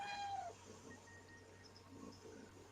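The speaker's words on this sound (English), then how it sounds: "Oh, I heard your little cat. Did I hear a meow then?" A pet cat meows once, a short rising-falling call at the very start, faint and somewhat distant in a quiet room. Only soft low background noise follows.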